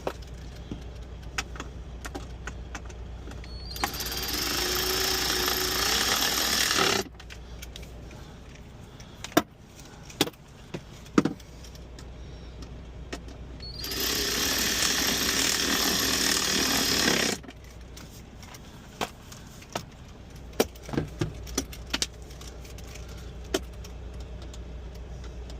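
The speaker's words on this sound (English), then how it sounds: "Guys, get yourself one of these electric wrenches." An electric wrench removing the bunk blower motor screws on a 2024 Mack Anthem truck, heard as two sustained loud whirring runs of a few seconds each, with sharp metallic clicks and clinks of tools and screws between them.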